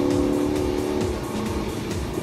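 A 636hp HSV GTSR W1 VF V8 muscle car accelerating on a track gives off a loud, steady engine roar that holds close and strong throughout, with no talking.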